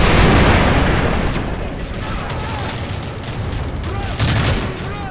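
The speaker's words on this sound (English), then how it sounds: "these freaking grenades" Grenade explosions in a Call of Duty: Modern Warfare 3 PC battle, a loud opening blast followed by rumbling debris and crackling gunfire, with another heavy boom near the end, close and forceful.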